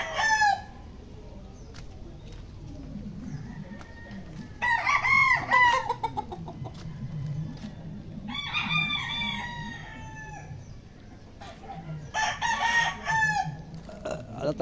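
Backyard-bred roosters and hens fill a farmyard: several loud crows ring out in separate bursts, with softer clucking and scattered chicken calls in between.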